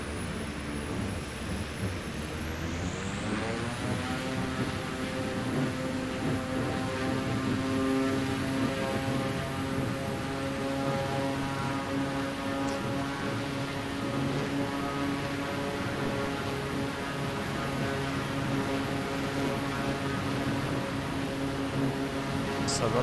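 Propeller plane in Microsoft Flight Simulator 2020 throttling up for takeoff, a steady droning engine whose pitch rises over the first few seconds and then holds as a continuous loud hum.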